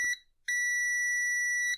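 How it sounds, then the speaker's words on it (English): A VENLAB VM600A digital multimeter gives a continuity beep as its probes bridge an antenna wire and its solder point on a circuit board: a short blip, a brief pause, then one long, steady, piercing electronic tone, clear and close. "Nice loud beep to tell you, yes, your continuity is good."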